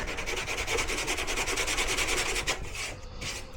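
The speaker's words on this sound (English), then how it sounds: "Give it a little bit of sanding." A board is sanded by hand during a quick repair, a steady back-and-forth rubbing rasp that keeps an even rhythm for about two and a half seconds, then eases off and fades. It sounds close and is heard alone.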